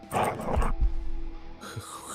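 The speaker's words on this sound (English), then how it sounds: "That's a dog, chat." A dog in the game Quasimorph growls and snarls low and rough in a close burst, followed by a softer rumble and quieter scuffling.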